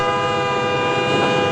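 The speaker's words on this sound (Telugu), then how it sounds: "7007 గోదావరి ఎక్స్ప్రెస్ 4వ నెంబర్ ప్లాట్ఫామ్ మీదకు వచ్చి ఉన్నది" The Godavari Express pulling into a railway platform sounds a long, steady, loud horn blast that fills the whole moment with no talk.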